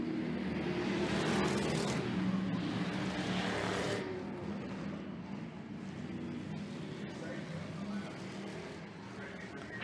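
Crown Victoria race cars at Smoky Mountain Speedway roar together in a loud, continuous engine drone that eases slightly after the first few seconds as the pack moves on.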